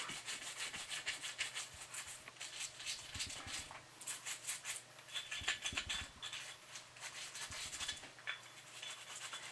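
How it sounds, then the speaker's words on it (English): A brush scrubs the upper of a semi-automatic pistol during cleaning, making close scratchy rubbing strokes in irregular back-and-forth bursts with a few soft metallic knocks in between. "I'm going to get my brush really clean, and I'm going to scrub, scrub,"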